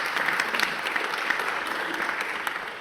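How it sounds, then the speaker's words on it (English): A crowd at the inaugural panel event of a UNESCO chair in data science and AI gives a steady round of applause, an even, moderately loud patter of many hands throughout. "big round of applause"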